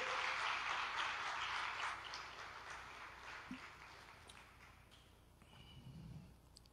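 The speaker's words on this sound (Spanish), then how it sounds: "denle un gran aplauso al Señor" A congregation claps at a Sunday church service, a faint and distant wash of applause that is strongest for the first two seconds, then fades into low room noise.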